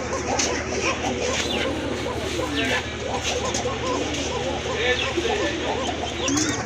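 Domestic and racing pigeons in a crowded loft give soft, continuous cooing and fluttery calls close by, with people talking underneath.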